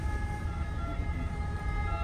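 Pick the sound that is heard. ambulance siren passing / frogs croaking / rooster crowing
ambulance siren passing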